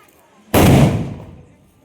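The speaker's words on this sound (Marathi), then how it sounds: "फटाके फुटला" A single firecracker bursts during Diwali outside a modest home: one sharp, loud, close bang that rings out and fades over about a second.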